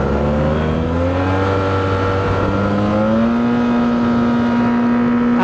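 A Yamaha TMax 560 scooter accelerates hard on an open road, its engine note climbing steadily in pitch, then settling into a sustained higher drone, loud and close with wind noise.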